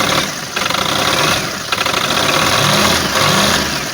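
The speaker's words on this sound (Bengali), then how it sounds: "এবং ইঞ্জিনের সাউন্ডও কিন্তু দারুণ আছে।" The engine of a Tata Ace Gold mini truck idles steadily after starting, with a loud, even, rough mechanical chug and a slight knocking rhythm that holds constant throughout. No one speaks.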